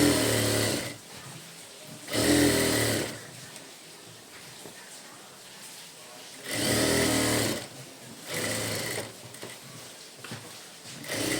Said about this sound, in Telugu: ఇలా స్టిచ్ వేసుకున్న తర్వాత ఇలా లైనింగ్ చుట్టూ అయితే ఒక కుట్టు అయితే వేసుకుందాము.